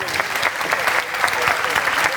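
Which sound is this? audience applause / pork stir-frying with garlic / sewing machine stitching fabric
audience applause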